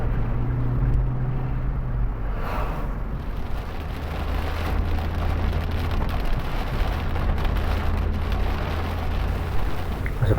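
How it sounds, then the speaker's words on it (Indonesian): Rain falling during a daytime road trip from rural Riau to Jakarta, a steady hiss of rain on the vehicle mixed with low road and engine rumble throughout. "Seperti yang teman-teman kita lihat adalah hujan"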